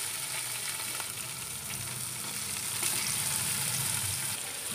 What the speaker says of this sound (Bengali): এই পনিরগুলোকে একটু ভেজে নেব।